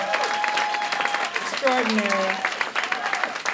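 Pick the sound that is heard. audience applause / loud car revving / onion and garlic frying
audience applause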